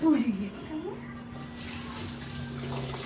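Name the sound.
washing with running water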